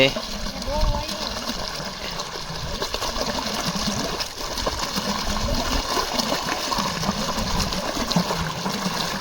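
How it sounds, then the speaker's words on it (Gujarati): Water gushing from a pipe in a farm field makes a continuous rushing, splashing flow close by, with faint voices talking underneath. "જો આપણે પાણી ચાલુ થઈ ગયું છે"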